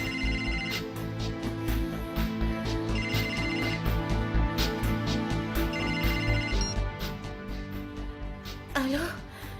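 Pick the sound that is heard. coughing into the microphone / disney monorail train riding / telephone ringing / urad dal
telephone ringing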